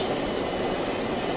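A plane in Just Cause 2 roars past as a continuous, loud, even jet-engine drone with a steady high whine over it and no voices.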